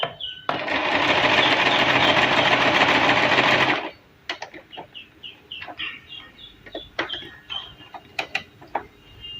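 A Singer simple sewing machine runs a zigzag stitch in one loud, steady whir for about three seconds, then stops, leaving soft clicks and mechanical taps from the machine.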